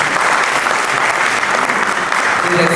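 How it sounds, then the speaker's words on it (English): Hall audience at a world peace science and spirituality gathering giving a loud, dense round of applause for a university official, sustained and close with a faint murmur underneath. "Please give a huge round of applause to Pradhan sir."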